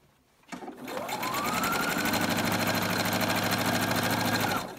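A sewing machine stitches a Cricut Maker dust cover, starting up after a short pause and then running in a steady, rapid, even whir for several seconds close by before stopping.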